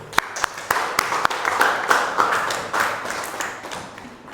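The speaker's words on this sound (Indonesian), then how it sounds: "Kita tepuk tangan dulu." An 11th-grade Aqidah Akhlak class claps together in a classroom, starting with a few sharp separate claps that build into ragged group clapping before dying down.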